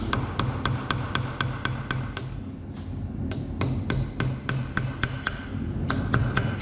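Sharp metallic taps of a hammer on a chisel against a bolt at the rear brake of a Ford Transit van, struck in a steady, fairly quick rhythm, over a dozen blows with a short pause midway, close and clear.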